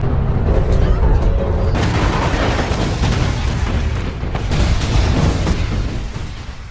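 A massive explosion as an advanced super train plunges back into the earth's core, a sustained loud roaring blast with rumbling booms rolling through the whole stretch.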